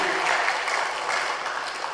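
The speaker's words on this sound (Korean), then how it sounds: "우리 박수 한번 보내줘야 돼요" A church congregation applauds during a Sunday service, a soft, even wash of many hands clapping at a moderate distance.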